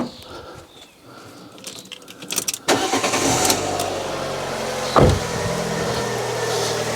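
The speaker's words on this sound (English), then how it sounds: "Let's try and start the engine," A car engine cranks briefly and catches, driven by a Topdon V2200 Plus jump starter, then settles into a steady, close idle.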